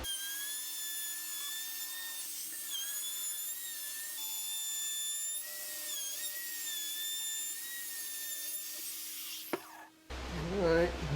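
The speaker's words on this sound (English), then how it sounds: "I'm going to put a round over on this outside edge." A router cuts a round-over on the outside edge of a wooden name plaque, giving a steady high whine that wavers slightly under load, then stops abruptly with a clunk near the end.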